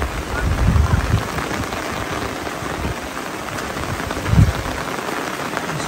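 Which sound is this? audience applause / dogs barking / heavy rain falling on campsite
heavy rain falling on campsite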